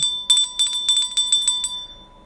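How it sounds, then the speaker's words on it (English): A small bell rings in a quick run of bright, metallic dings during a baseball card opening, about a dozen close strikes in uneven clusters, loud and alone over a quiet background. "I'll give a bell ring there for Carter's kids."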